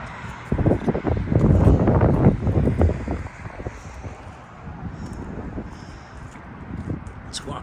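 Wind gusts buffet the microphone outside a very large building, a loud rumbling roar at first that eases to a steadier, softer rush with faint rustling.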